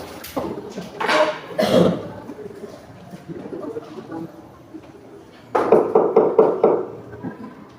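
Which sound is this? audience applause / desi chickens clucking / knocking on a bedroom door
knocking on a bedroom door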